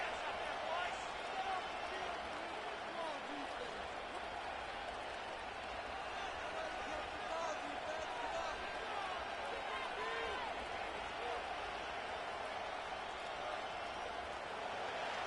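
A stadium crowd in the Madden 25 football video game keeps up a steady, dense roar for the whole stretch, with a commentator's voice talking over it.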